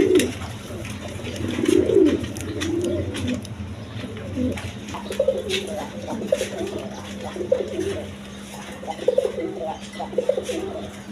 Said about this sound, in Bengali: দেখেন কবুতরগুলা খুব সুন্দর।